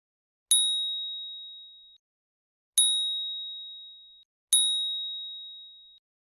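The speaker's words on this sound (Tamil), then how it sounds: "யாருடா இது நமக்கு ஃபோன் பண்றது?" A phone ringtone in a Tamil short film sounds as three clear, bright electronic ding tones, evenly spaced and each fading slowly, with silence between and no voices.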